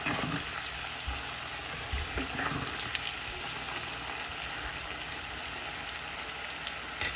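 Vadai-like snacks deep-frying to brown in a pan of hot oil give off a constant, fine sizzling crackle with occasional soft pops and stirring clinks, close and steady with no talking.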